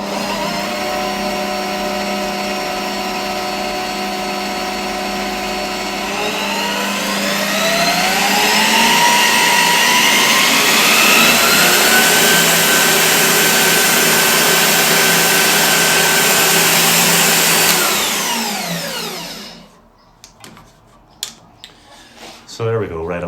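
A Bosch PBD 40 drill press motor running steadily, then whining upward in pitch as it spins up to its higher speed, holding a loud high whine before winding down and stopping near the end.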